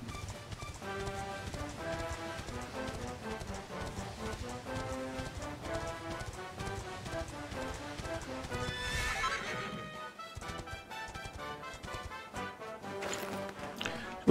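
A horse in Dragon Quest XI whinnies and its hooves clip-clop steadily over a game music score, with the whinny rising clearly around the middle.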